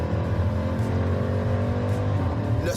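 Jeep Trackhawk V8 engine roaring steadily under load, its pitch climbing and dropping through gear changes, close and loud with no talk over it.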